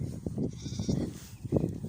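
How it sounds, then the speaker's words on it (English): A lone young goat kid bleats several times in short, wavering cries, close and fairly soft, with no talking over it. "He's on his own and he's bleating."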